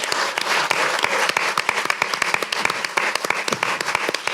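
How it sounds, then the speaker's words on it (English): Audience at a book kickoff event applauds, a full room of hands clapping in a dense, steady patter that holds loud and even from start to finish. "if you want to give him an applause, it is very deserving"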